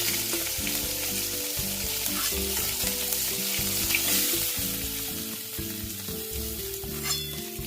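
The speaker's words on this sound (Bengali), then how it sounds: "মাছ ভাজা হয়ে গেছে, মাছটা তুলে নেব" Fish frying in hot oil, a steady dense sizzle with rattling spatter running throughout, close and fairly loud, with no voices.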